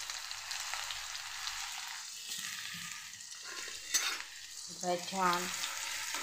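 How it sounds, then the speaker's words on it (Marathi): Garlic and cumin paste goes into hot oil, starting with a steady hiss and frying crackle, then spoon stirring and a clink against the pan, while a voice speaks briefly near the end. "टाकून घेते मी लसूण जिऱ्याची पेस्ट."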